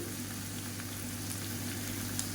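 Tomato masala with chili, coriander and turmeric powders sautéing in a pan on a South Indian kitchen stove, a steady low sizzle and bubbling hiss throughout, close and continuous.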